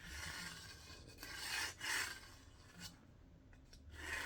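Steel blade of a Timber Wolf Shark Back Bowie knife grinding on a stone to take off burrs, heard as a steady harsh rasp with louder strokes and a few short pauses, close and with no talking.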